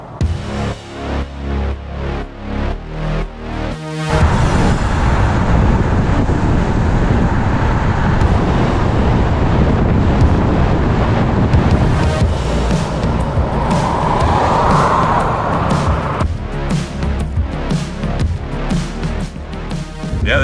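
A 1993 Lincoln Mark 8 with a 4.6 32-valve engine cruising on the road in hot weather, a steady loud rush of engine, tire and wind noise that swells after a few seconds and holds, heard from inside.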